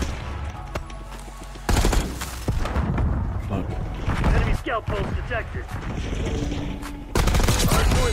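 Rapid bursts of gunfire and booming shots in Call of Duty: Black Ops 6 multiplayer, loud and dense, with brief pauses between volleys and a voice talking over parts of the action.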